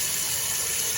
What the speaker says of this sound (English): I'm gonna add more cold water, some salt, and some vinegar